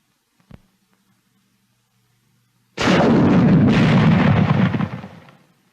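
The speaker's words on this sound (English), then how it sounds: "Let's look at this new weapon, generally called the bazooka, which plays a song of death to the enemy." An M1 bazooka rocket launcher fires with one sudden, very loud close blast that rolls on as a thick roar for about two seconds before fading, preceded by a faint click and a low hum.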